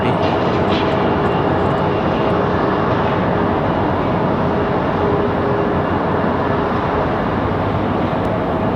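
An Aer Lingus airliner taxis at Raleigh-Durham airport, its jet engines a steady, broad roar that holds moderately loud and unchanging throughout with no other sounds standing out.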